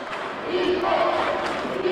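A basketball crowd and student section at a girls' high school game swell in a broad, steady roar of cheering voices filling the gym.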